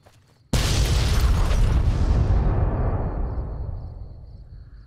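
A sudden loud explosion bursts in the video game Fallout New Vegas, a heavy boom with a broad roar that rumbles on for several seconds and then slowly dies away.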